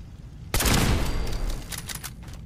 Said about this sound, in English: Yeah, it's the turret that sees us.